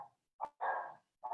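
Dogs bark indoors in a few short, sharp yaps with gaps between them, fairly close and alone without talk.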